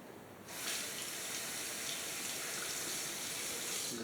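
A Wilkinson Sword safety razor is rinsed under a running tap. After a brief quiet moment, a steady rush of water starts and keeps flowing evenly to the end, close and moderately loud.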